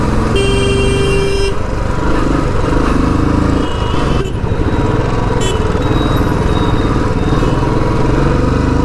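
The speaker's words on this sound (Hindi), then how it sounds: "देख लो कितना ट्रैफिक है भाई।" Busy road traffic heard from a Royal Enfield Bullet 350 motorcycle, with the steady low rumble of engines throughout and several car and truck horns honking near and far.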